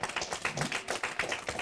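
A church congregation clapping in praise, a quick run of rhythmic handclaps that holds steady at moderate level throughout, with no talk over it.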